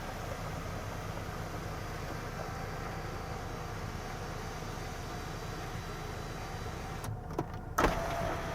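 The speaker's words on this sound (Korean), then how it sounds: "그 위쪽으로는 썰루프 개방해 볼게요" A BMW 5 GT sunroof opening: a long, steady electric motor whirr runs under a broad hum inside the car's cabin, ending with a soft clunk near the close.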